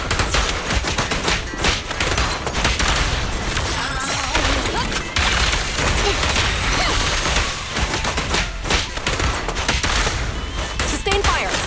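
Dense, continuous gunfire in the video game Zenless Zone Zero during an ambush, with rapid overlapping shots, crashes and impacts forming a loud, unbroken barrage that runs throughout.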